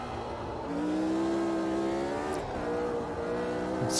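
Aussie Racing Cars, small Camaro-bodied racers, in Automobilista 2 at the Red Bull Ring come up close with a loud engine drone that climbs in pitch as they accelerate, a second car joining partway through.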